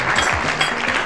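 Studio audience applauding on a 1993 Greek morning TV talk show, a dense, steady burst of clapping filling the short moment on its own.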